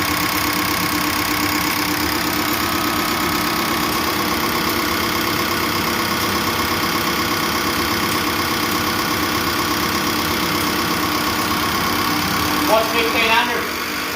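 A Toyota 1KZ diesel engine with a mechanical injection pump idles steadily, a constant clattering, knocking drone held close up, with a brief louder burst near the end and a person speaking over it.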